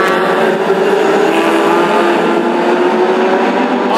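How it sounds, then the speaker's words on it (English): A pack of race cars driving together on a circuit gives a loud, continuous engine drone with steady revving and no break, with no clear single pass-by. "Great gaggle of cars here."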